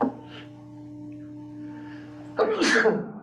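A single sharp sneeze bursts out after a stretch of quiet room tone with a low steady hum.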